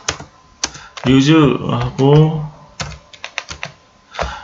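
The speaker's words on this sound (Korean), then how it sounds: "연습 차원에서 한번 천천히 타이핑을 해보겠습니다." Keys click unevenly on a computer keyboard, close by, as someone speaks briefly in the middle of the typing.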